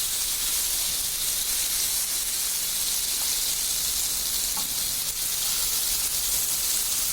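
Eggs with chili fry in a pan, giving a constant, moderately loud hissing sizzle that holds evenly throughout with no voices.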